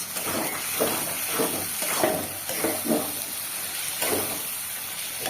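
A dish being stir-fried in a pan in a Bengali home kitchen, after eggplant pieces were fried and set aside. Steady sizzling runs throughout, broken by repeated scrapes and stirring strokes, close and moderately loud, with no talking.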